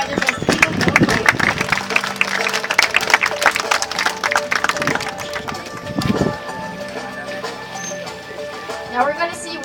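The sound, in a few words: audience applause at a dolphin show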